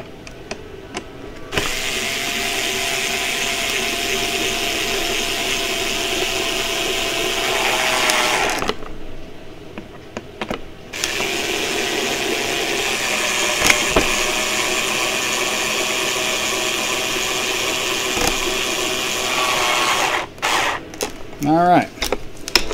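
A power screwdriver driving screws into an AVIOS Bushmule V2 model plane kit, running in long steady whirring bursts with a short pause in between, someone talking over it, and brief clicks and rattles at the end.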